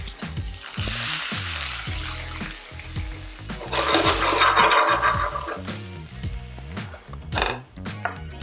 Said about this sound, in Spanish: Y a ese mismo sartén le voy a agregar los jitomates.